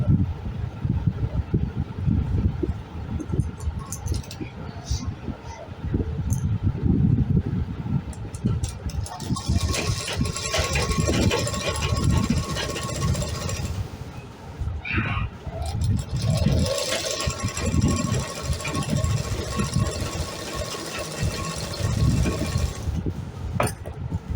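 A sewing machine stitching a frilled blouse sleeve, running in long mechanical bursts with a rattling motor drone and short pauses between runs, close by, with someone talking at times.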